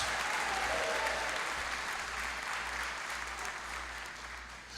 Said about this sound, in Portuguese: Então dê uma salva de palmas verdadeiramente para Jesus.